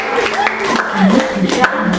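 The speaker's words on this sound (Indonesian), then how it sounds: "Kasih tepuk tangan dulu ya." A classroom audience applauds in a brief burst of clapping under a teacher's talking, fairly close and moderately loud.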